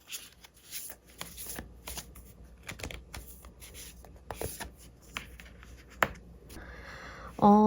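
Tarot cards are shuffled by hand close to the microphone, making crisp, quick, irregular riffles and flicks throughout. A brief voice sound comes right at the end.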